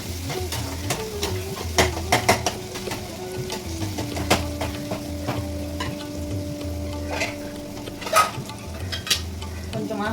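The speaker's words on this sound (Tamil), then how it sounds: "கடாயில் போட்ட வெங்காயம், தக்காளி, இந்த மசாலா ஐட்டம்ஸ்லாம் வந்து நல்லா வதங்கிருச்சு" Onion, tomato and masala sauté in a kadai with a steady close sizzle, broken by scattered stirring scrapes and metallic clinks of a utensil against the pan.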